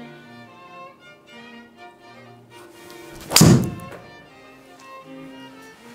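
A TaylorMade BRNR Mini Copper driver strikes a golf ball off the deck without a tee, giving a single loud, crisp impact in the middle with a short ringing decay.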